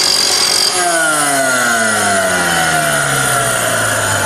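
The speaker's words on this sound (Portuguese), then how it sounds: "Eu estou usando a esmerilhadora para fazer a limpeza" Angle grinder on a steel weld joint, cleaning the bead: a loud, steady high whine that drops in pitch as the disc slows down after the first second, running on alone with no talk.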